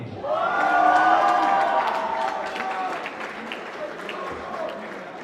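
Spectators at a youth bouldering final break into applause and cheering, swelling quickly then easing off, with shouts and voices riding over the clapping.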